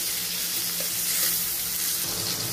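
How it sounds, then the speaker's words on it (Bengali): Spiced, coated eggs fry in hot oil in a pan as they are turned over, producing a loud, continuous close sizzle and crackle with no voices. "উলট পালট করে ভেজে নিচ্ছি অল্প করে"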